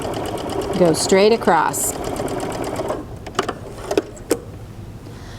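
A sewing machine stitching quilt binding onto minky cuddle fabric, with a rapid, steady mechanical whir running close and loud, and a person speaking briefly over it before it settles under scattered light clicks.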